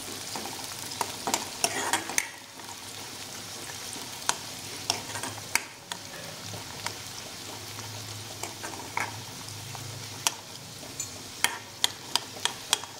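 Onion and curry leaves fry in oil for zunka, a quiet, continuous sizzle broken by sharp ticks and clicks of a spoon against the pan, with no one speaking.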